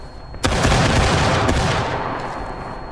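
A massed infantry musket volley fired on command in the War of Rights video game: one loud, sudden crash of many shots at once that rolls on into a long, dense rumble and slowly fades.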